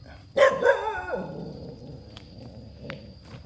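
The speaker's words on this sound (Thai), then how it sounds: "เห่าอะไรหนูเงี้ยมานี่สิ เห่าอะไร" A dog at a forest monastery in Nakhon Phanom, Thailand, gives a couple of close barks in quick succession, then goes quiet apart from faint background sounds.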